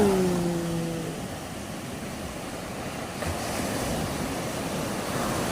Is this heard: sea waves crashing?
yes